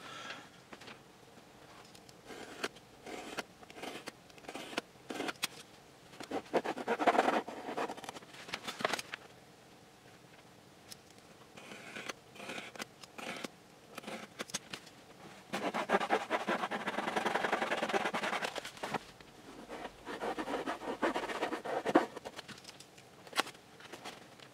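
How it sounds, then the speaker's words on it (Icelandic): A blade cuts away an engine cover in a workshop, a saw or knife drawn along a straightedge, giving faint, irregular scratchy strokes and taps with brief louder rasping passages, no talk. "nú get ég notað svona sög eða bara hníf og réttskeið til þess að skera hana frá"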